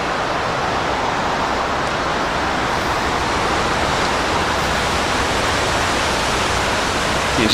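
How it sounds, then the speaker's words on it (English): Broad, steady roar of water rushing through a channel of the Delaware Canal that regulates water flow, loud and unbroken throughout, with no voices over it. "just another water channel, helping to control water flow."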